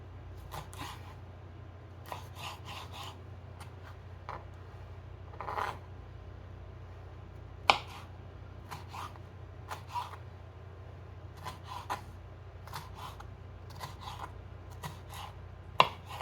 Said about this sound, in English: So I'm chopping up the bell peppers